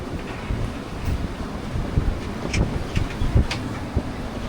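Wind of more than 30 knots blows across a boat at sea, a steady roaring rush with heavy buffeting on the microphone, and water washes against the hull underneath.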